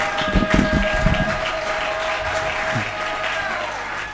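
A church congregation applauding during a worship service, a dense burst of clapping that quickly thins and fades to a low room murmur.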